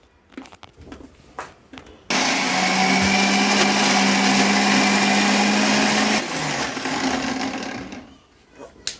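An electric mixer grinder blends garlic, ginger, green chili and coriander into a masala paste for fish, a loud steady whir running about four seconds, with brief rustling and faint voices before and after.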